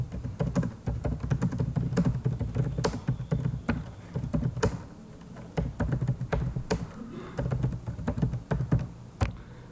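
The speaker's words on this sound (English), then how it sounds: "So let's type in a flag reason." Typing on a computer keyboard at a desk: irregular bursts of close, crisp key taps with short pauses between words, alone with no talk.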